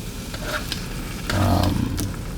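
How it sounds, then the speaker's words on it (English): Turkey bacon frying in olive oil in a pan crackles and sizzles close by, swelling louder midway as pieces are moved, with scattered pops throughout. "I like to put first the turkey bacon because it takes longer to cook"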